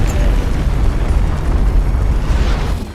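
A huge cartoon explosion from Thomas & Friends rumbles loud and deep, a sustained roaring blast with heavy low-end that holds steady before easing slightly.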